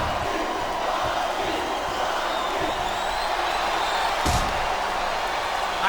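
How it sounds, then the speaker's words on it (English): A capacity crowd at a WWE wrestling arena roars in a continuous dense wash of noise, with a sharp slam-like thud cutting through near the end. "This capacity crowd is making their opinions known tonight"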